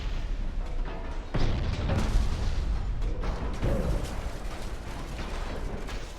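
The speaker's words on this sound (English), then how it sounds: "they just keep firing torpedoes" Heavy, continuous booming rumble of torpedo hits slamming into a warship's bow in Ultimate Admiral: Dreadnought, with a sharp impact surge partway through and creaking, grinding metal under sustained low roar, no voices.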